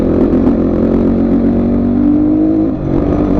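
A motorcycle climbs a slippery muddy off-road track uphill in the Chandragiri hills, its engine loud, close and continuous, with a rough clattering drone that dips only briefly near the end.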